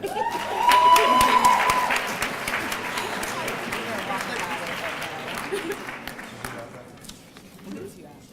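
A crowd at a student recognition ceremony claps for the students in a loud round of applause that swells early and then gradually fades, with a brief high whistle near the start.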